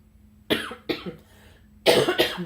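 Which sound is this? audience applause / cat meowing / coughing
coughing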